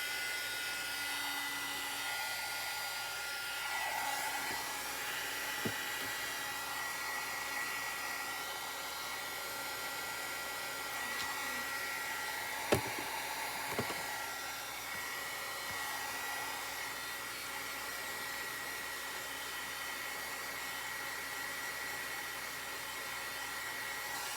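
A hair dryer blows on a painted Easter craft, a steady whirring hum running throughout at moderate distance, with a couple of faint clicks and knocks along the way.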